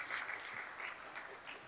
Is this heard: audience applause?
yes